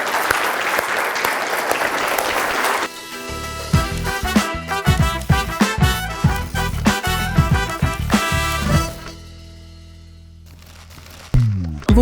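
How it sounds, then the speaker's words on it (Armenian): Audience applause at a school arts event fills the opening three seconds with dense, loud clapping, then rhythmic music with strong beats takes over and fades near the end. "ես էլ ձեզ եմ ծափահարում"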